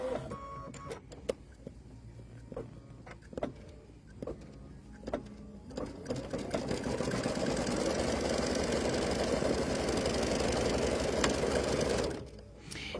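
Embroidery machine stitching a placement line directly onto stabilizer for an appliqué project, starting with scattered clicks and taps before settling into a steady, loud mechanical whir that runs continuously for several seconds and then stops abruptly.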